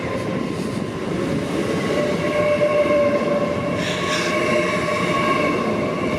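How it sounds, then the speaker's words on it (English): An LNER Azuma train of eight or nine coaches bound for Edinburgh runs through Peterborough station, a loud, steady rumble with a sustained tonal whine and rail noise lasting throughout, close by, with no talking. "LNER Azuma service. Heading to Edinburgh, I'm pretty sure. Consists of 9 coaches."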